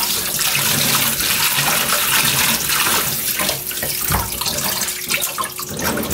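Spinach is washed under a running kitchen tap, with a loud, steady gush of water and splashing as the leaves are moved around in the stream. No one speaks.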